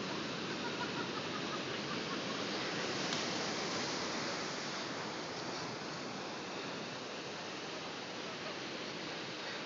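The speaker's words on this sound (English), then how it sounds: "Beautiful ocean." Ocean waves along the Hawaii shore make a steady, fairly faint rushing wash that continues unbroken throughout, with no talking.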